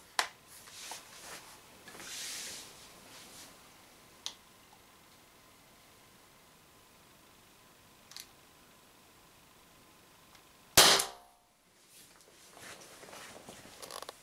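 An Umarex TP50 air pistol fires aluminium balls, with one loud sharp report near the end followed by a brief quiet gap, preceded by faint clicks and light handling noises.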